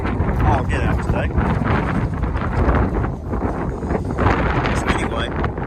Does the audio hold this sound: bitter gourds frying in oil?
no